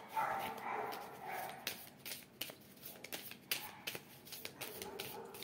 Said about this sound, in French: Pardonnez-moi pour les chiens qui aboient.